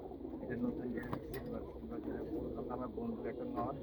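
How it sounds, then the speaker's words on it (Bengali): Pigeons kept at a home loft coo softly and repeatedly beneath people talking, set against a dense, steady background murmur. "কবুতরের নাম রেলমন্ত্রী আর এই যে কবুতরটা দেখতেছি আমরা"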